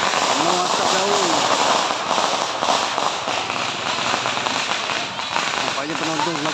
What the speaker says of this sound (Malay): Menyaksikan pesta bunga api di Kampung Labuh Tembaga.